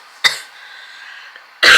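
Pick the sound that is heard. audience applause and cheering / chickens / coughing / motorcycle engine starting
coughing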